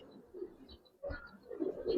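Pigeons of the Giribaz breed, silver and coloured birds kept by a breeder, give soft, low cooing in short, close murmurs, growing fuller toward the end.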